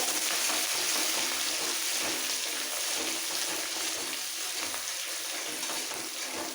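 Ginger and garlic sizzle and crackle in hot oil, a steady bright frying hiss with occasional stirring scrapes, fairly close and continuous.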